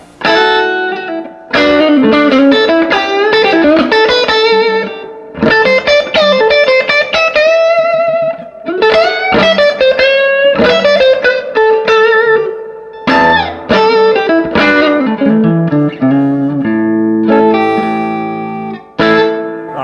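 An electric guitar plays a bright, slightly distorted bluesy line through a 1963 Magnatone High Fidelity Custom 480 amp on its bright setting, with ringing notes and short pauses between phrases.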